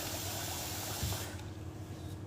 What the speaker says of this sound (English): I'm gonna wash it in my sink.